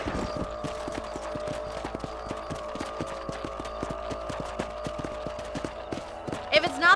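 Rhythmic hoof clip-clop of a galloping horse in the video game Red Dead Redemption, steady and close, with a sustained musical tone running underneath and a brief burst near the end.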